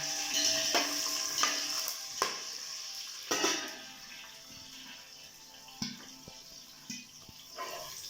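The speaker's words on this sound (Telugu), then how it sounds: "పచ్చి బఠానా, వీటన్నిటిని కలుపుకుందాం." Green peas and flower spice are stirred into a sizzling pan, a soft continuous fry with scattered spoon clinks and scrapes, quiet and close.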